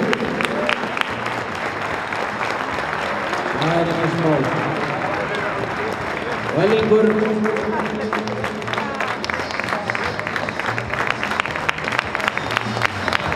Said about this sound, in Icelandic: við skulum klappa aðeins fyrir